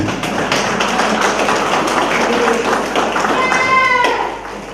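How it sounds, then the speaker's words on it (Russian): An indoor audience at a community gathering applauds steadily, a dense patter of many hands clapping close by, holding for several seconds before easing off. "Он все равно поддерживаем его аплодисментами."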